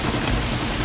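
Heavy rain pours down in a night scene from the 1986 film Psycho III. It is a brief, steady, dense hiss that fills the moment, with no voices.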